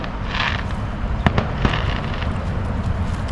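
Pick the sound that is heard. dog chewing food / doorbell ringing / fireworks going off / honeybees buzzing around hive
fireworks going off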